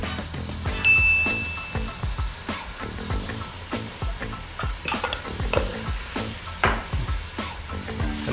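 Chicken sopas ingredients are sautéed in a pan with salt and pepper, a steady sizzle broken by repeated scraping and clinking of a utensil stirring against the metal, close and fairly quiet.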